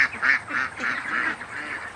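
A group of six small ducks quacks nearby in a quick run of about five calls, fairly loud against a faint background.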